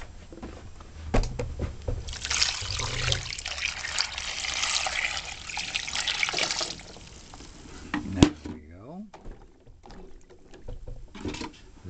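Water runs from a kitchen faucet in a steady stream for several seconds, heard close and fairly loud, with brief clatter and handling noises around it.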